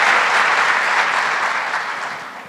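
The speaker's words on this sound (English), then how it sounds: "Yes, that deserves a round of applause." Audience applause at a school district community gathering, a dense burst of clapping from a room of people that slowly fades over a couple of seconds.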